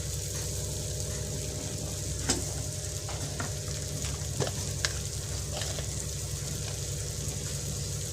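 Chopped green chili and asafoetida sauté for mango pachadi in a hot pan, a dense continuous sizzle and crackle with a few sharper pops and stirring clicks, close and steady with no talking.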